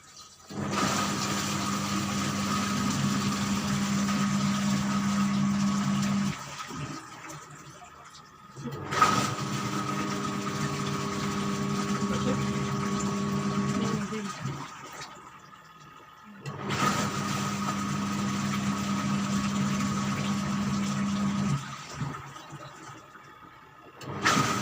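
An LG digital washing machine that has been converted to manual control runs with a steady, moderate motor hum and churning. It comes in three long stretches separated by brief pauses.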